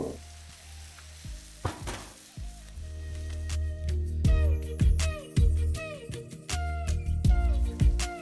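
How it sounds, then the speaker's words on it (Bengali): Chopped onions with salt frying over a high flame for an egg masala curry, a steady loud sizzle broken by repeated clanks and scrapes of a spatula against the pan, no voices. "এবার পেঁয়াজটাকে আপনাদের ততক্ষণ ভেজে নিতে হবে যতক্ষণ না পেঁয়াজটা একদম লাল লাল হয়ে ভাজা হয়ে যাচ্ছে"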